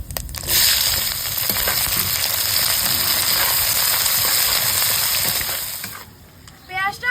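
Chopped onion with whole spices hits hot oil, a loud dense sizzle and crackle that holds strong for about six seconds before easing, with a brief bit of voice near the end.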